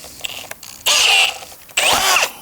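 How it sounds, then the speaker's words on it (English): A power drill drives countersunk screws while a Korniche bi-folding door is installed, with two short loud whirring bursts separated by a pause and a few faint clicks. "when you put these screws in, it's important they go deep enough so that they clear the rollers"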